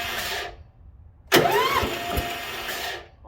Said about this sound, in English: Start off by putting choke on, gas is on, a little throttle, and crank.